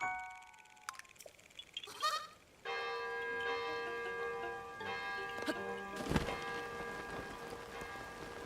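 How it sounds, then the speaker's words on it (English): A bell in Zelda: Tears of the Kingdom rings with a bright metallic strike, leaving a long sustained shimmering tone, with a second strike near the end over soft background ambience. "Bell."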